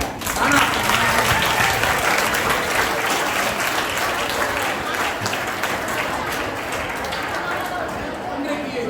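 An audience claps loudly and continuously at a Bharathi birthday function at GGHSS Thiruvandar Koil, a school. Dense applause fills the room for several seconds, with crowd murmur underneath, and eases slightly toward the end.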